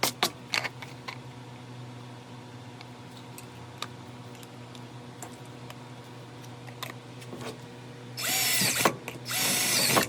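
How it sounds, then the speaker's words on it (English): A power drill bores holes in a kydex holster, its motor whining in two loud bursts near the end after a stretch of quieter clicks and handling noises close by. "now that those holes are drilled"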